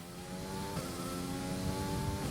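A Formula 1 car engine in the game F1 2020 whines steadily at high revs, its pitch holding and shifting slightly, somewhat muffled and faint.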